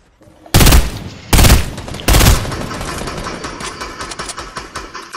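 Three loud, sharp sniper shots in the Fortnite video game, fired about a second apart, each followed by a reverberant tail that fades into a steady rumbling background.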